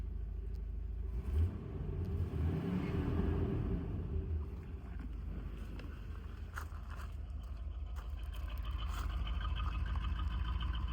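A C3 Corvette engine, back on the road after a $1000 purchase and running with low oil pressure, idles with a deep, steady exhaust rumble, close and continuous with no speech.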